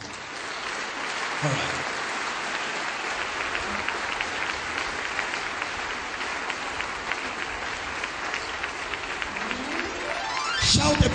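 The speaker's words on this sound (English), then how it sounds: "give Jesus a round of applause" Church congregation applauding steadily and fairly loud throughout, with a brief voice over the clapping near the end.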